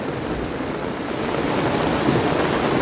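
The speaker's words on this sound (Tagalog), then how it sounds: "Sana tumigil na malakas na ulan." Heavy rain pours down in a dense, steady roar that fills the whole clip with constant hissing.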